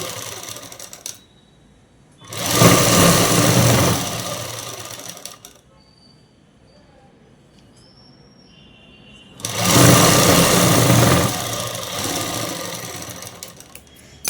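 A sewing machine stitches a dress in two close, loud bursts of rapid mechanical whirring, with a quiet pause between them and no talking.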